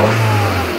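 A running car engine gives a brief, loud, steady droning hum that tapers slightly at the end.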